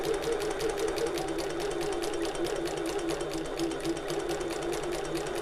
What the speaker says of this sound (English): I'm do a little bit of back stitching, pivot and sew back down that line.